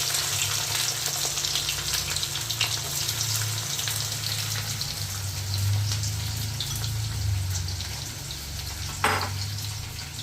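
Chopped onion fries alongside chicken in a pan for mango chicken, giving a steady, close sizzle that runs the whole time. One short clatter sounds near the end.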